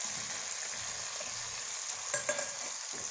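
Garlic paste and a generous handful of curry leaves sizzle steadily in a pan, close and fairly quiet, with a few brief stirring scrapes near the end.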